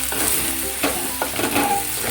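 Spice powder being sautéed in a pan for brinjal tamarind curry, a continuous low sizzle broken by a few scraping stirs, with no talking.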